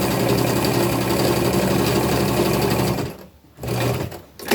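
Sewing machine stitching gathers on a flannel tunic, a loud, steady motor whir running continuously up close, then a short pause and a brief restart at the end.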